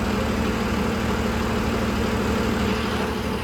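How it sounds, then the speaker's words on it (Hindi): A ferry engine running on board near Tiracol in North Goa, a steady loud low droning hum with constant vibration and no pauses, heard up close. "The engine of this Pheri guys."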